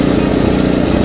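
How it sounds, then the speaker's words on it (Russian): A Simplicity snow blower's engine runs at a constant, loud, close-up drone with no variation over the short stretch. "Это снегоуборщик."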